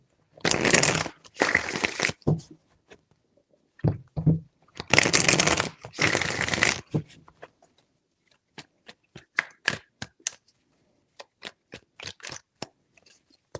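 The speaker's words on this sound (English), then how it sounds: "Three shuffles." Tarot cards are shuffled in several quick riffling bursts, close and crisp, followed by scattered soft taps and clicks; no one speaks.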